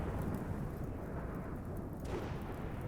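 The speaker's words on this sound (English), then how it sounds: "Lightning is a pretty cool effect in this game" Thunder from a lightning strike in RimWorld rumbles low and steady over a rain-like hiss, a continuous storm bed heard on its own.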